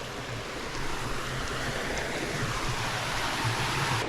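Water rushing steadily along an irrigation canal carrying water to nearby farms, a continuous broadband gush close by with no talk.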